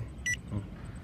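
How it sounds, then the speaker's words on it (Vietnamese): A remote control for a Feilun FT016 RC speedboat gives a short, sharp electronic beep as its low-battery warning, heard once close by over faint background noise. "remote nó tiếp bíp bíp chậm như vậy nè ha, tức là nó đã thông báo pin chúng ta sắp yếu"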